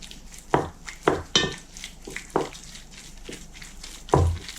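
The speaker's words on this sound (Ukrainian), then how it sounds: "Вимішую до тих пір, поки яйце не вмішається в тісто" Mixing an egg into choux dough made with milk and butter: a series of soft wet slaps and knocks as a spoon works the dough in a bowl, irregularly spaced, close and moderately quiet.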